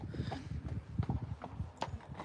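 Horse hooves clip-clop along a street in Cartmel village, a steady close walking rhythm of sharp knocks with a little background noise and no speech.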